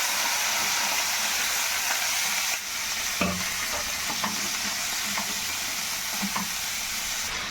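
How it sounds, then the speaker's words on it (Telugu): Tomatoes, onions and green chilies frying in a pan, giving a steady, even sizzle with a slight dip partway through and a few soft clinks of a spatula. "టమాటాలు, ఆనియన్స్, పచ్చిమిర్చి వీటిని ఇందులో వేసి కొంచెం దోరగా వేయించుగా"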